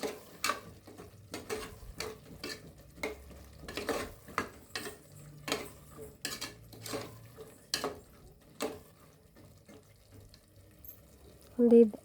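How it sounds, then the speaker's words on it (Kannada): A spoon stirs vegetables and field beans (avarekalu) with masala in a pan for pulav, making a series of irregular scraping strokes with pauses between them and a louder clatter right at the end. "ತರಕಾರಿ ಹಾಕ್ಕೊಂಡು ಎಲ್ಲ ಚೆನ್ನಾಗಿ ಮಿಕ್ಸ್ ಮಾಡ್ಕೊಳ್ಳೋಣ."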